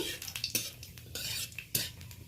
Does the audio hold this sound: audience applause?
no